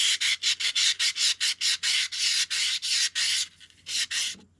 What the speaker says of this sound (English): I will use a little bit of just a wet dry sanding paper to remove it.